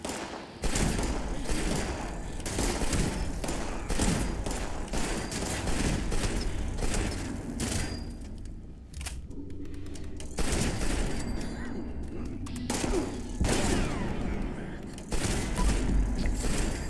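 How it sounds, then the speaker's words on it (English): Dense, continuous gunfire and heavy thumping grenade launches and blasts from a Fallout 76 firefight during a Pitt expedition, loud and sustained with bursts of machine gun fire and brief lulls, no talking. "somebody's like shooting grenades at me"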